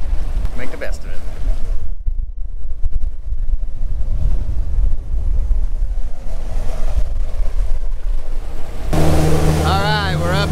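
A motorboat cruises out on choppy, windy water. Its engine drones steadily under constant wind buffeting on the microphone and splashing water, with a brief voice near the end.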